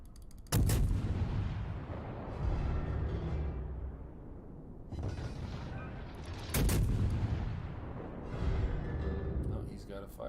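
Heavy naval guns fire in World of Warships, two big booming salvos that trail off into rumbling echoes, with smaller shots between, while someone talks over the action.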